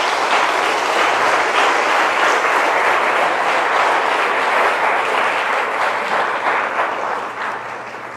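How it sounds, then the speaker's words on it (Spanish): Loud, dense audience applause fills the room without a break, steady for most of its length before tapering off slightly at the end. "Dale un aplauso."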